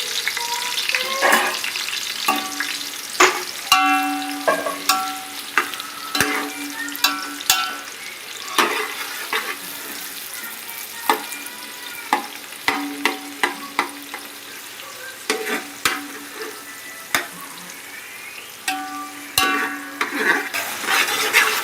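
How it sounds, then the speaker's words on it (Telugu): A cup of onions frying in about 100 ml of oil, with a constant sizzle broken by sharp clinks and scrapes of a spoon stirring, close and clear without talk. "ఆయిల్ వేసుకోండి ఉల్లిపాయలు ఒక కప్పు ఇందాక చెప్పాను కదండి ఒక కప్పు ఉల్లిపాయలు వేసుకోండి"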